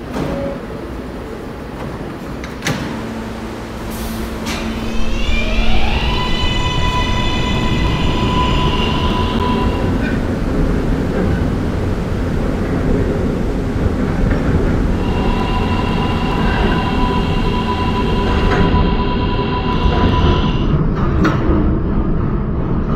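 A simulated R143 subway train (2001 version) in the game PTA Subway, running as a Q Express shuttle toward Myrtle Avenue, with rising electric motor whine, steady rumbling wheels and tonal chimes, loud and continuous.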